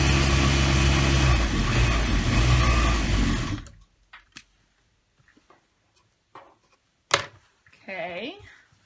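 A sewing machine stitches a rag quilt pillow sham in a loud, steady mechanical run that stops abruptly partway through, followed by quiet handling clicks and a brief voice.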